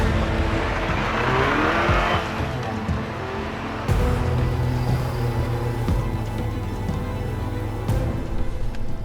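A Toyota Tacoma TRD PRO pickup drives through deep snow and ice on a mountain course, its engine droning steadily and loudly with bursts of revving and tire spin, close by with no talk.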